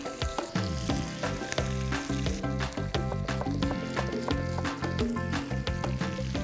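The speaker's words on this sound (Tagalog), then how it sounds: "Sasabay lang natin dun sa pagsangkot siya ng ating karne, yung ating bawang, siyempre." Chunks of pork belly sizzle with garlic in a hot pan for adobo, a loud, continuous crackling fry with busy, irregular pops and spatters from start to finish.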